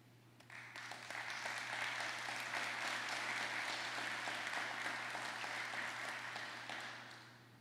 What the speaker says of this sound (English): This Board of Supervisors are deserving of recognition and that applause